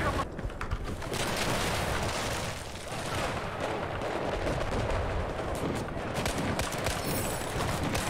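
Gunfire in Battlefield 4, with dense overlapping shots and heavy booms filling a loud, continuous battle soundscape.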